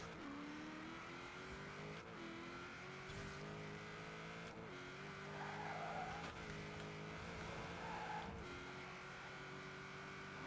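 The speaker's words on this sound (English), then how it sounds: "let me just give you a quick glimpse of the acceleration of this thing" A V8-swapped car of over 1,000 horsepower accelerates hard in Forza Horizon 4, its engine note climbing steadily through several quick gear changes with tire noise, loud and continuous throughout.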